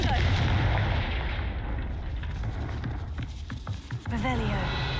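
A Confringo fire-blast spell explodes in the video game Hogwarts Legacy, a loud, dense rumbling burst that fills the opening seconds and then thins into scattered crackles and thumps, followed by a short rising whoosh near the end.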